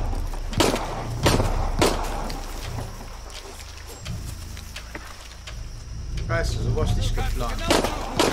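Loud gunshots ring out in Shadow of the Tomb Raider: a few sharp, booming cracks early on, then rumbling action and game sounds, with some voices in the mix.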